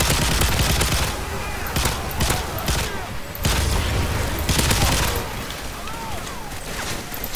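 Sentry gun firing in Call of Duty MW3 Survival mode, with loud, rapid bursts of automatic fire and dense gunfire layered over a speaking voice.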